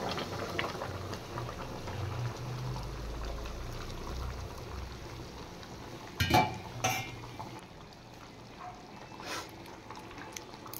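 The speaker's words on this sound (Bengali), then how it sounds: "এবার আমি গরম জল দিয়ে দিচ্ছি।" Hot water poured onto chicken in a cooking pot, a low bubbling boil with a brief splashy pour and clatter midway, then a quieter simmer; no talking.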